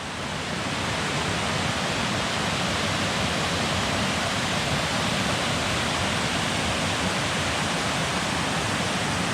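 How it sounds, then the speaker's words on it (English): Constant roar of Meadow Creek Falls emptying into Lake Cumberland, dense and unbroken rushing water at full strength throughout, with no voices. "Meadow Creek Falls, folks."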